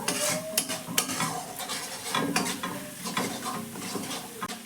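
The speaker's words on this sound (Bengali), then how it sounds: "যতক্ষণ না মশলাটা একদম শুকনো শুকনো করে ভাজা হচ্ছে, মশলা থেকে তেল ছাড়ছে, ততক্ষণ কিন্তু আমি মশলাটাকে ভেজে নেব।" Spice masala with garlic frying in a pan until dry and releasing oil, a close, steady sizzle broken by sharp scrapes and clinks of stirring against the pan, with no voices.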